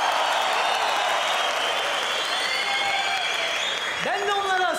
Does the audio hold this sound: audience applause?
yes